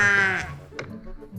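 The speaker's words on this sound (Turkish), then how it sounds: "Koyun." A sheep bleats once, loud and near, a wavering cry followed by a few softer rustles and a faint short sound.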